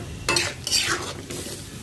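Tengra fish goes into a hot frying pan, and a loud bright sizzle bursts up in a few quick surges as it is stirred, close and without any talking.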